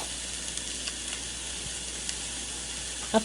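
Mutton sautéing in oil on a high flame for paya soup, an even close hiss of sizzling throughout with a faint stir or scrape at the very end.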